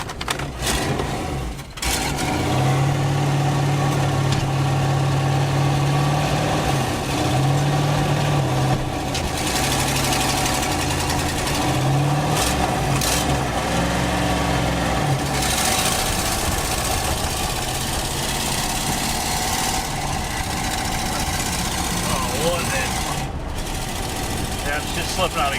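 A Dodge Ramcharger's engine idles steadily with a low rumbling hum and faint knocking, continuous and close throughout with no talk.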